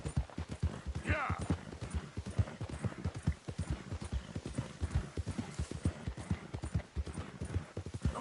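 Horse galloping in the video game Red Dead Redemption 2, a fast continuous clip-clop of hooves with a brief whinny early on, heard close up with talking and urging over it.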